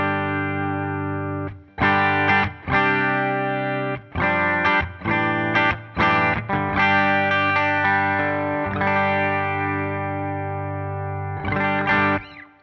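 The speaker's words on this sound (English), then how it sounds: "That's a really nice Fender tone" An electric guitar rings through a Fender amp model in the Line 6 Helix Native plugin with a clean, chorus-tinged tone, playing sustained chords and short strummed phrases up close.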